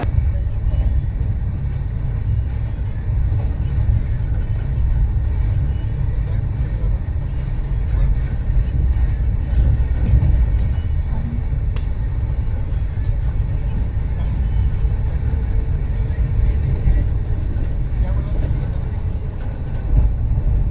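Train idling at Gwalior railway station, with a steady low rumble and broad station noise filling the scene throughout and a few faint metallic clinks rising midway.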